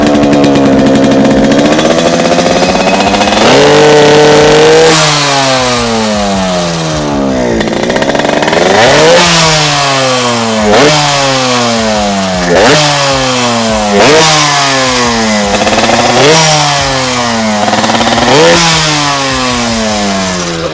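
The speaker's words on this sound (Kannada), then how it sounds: "ಗಾಡಿದು ಫಸ್ಟು ಒಂದು ಸೌಂಡ್ ಚೆಕ್ ಮಾಡೋಣ" A 37-year-old Yamaha RX 100 two-stroke motorcycle engine revs loud and close, its pitch climbing and dropping in repeated blips over a steady idle, with no talking.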